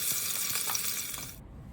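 Potatoes shallow frying in sunflower oil and ghee, a steady close bright sizzle with faint stirring taps, ending suddenly.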